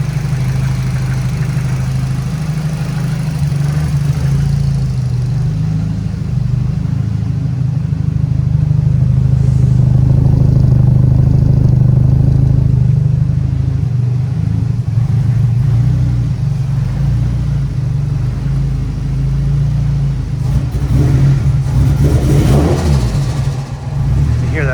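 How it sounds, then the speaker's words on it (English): Turbocharged Nissan Silvia S14 engine idling steadily with a deep low hum, a slight rise in revs midway and a brief blip of throttle near the end, heard close and alone. "I want to let it run so that I can get obviously a better sounding engine running video"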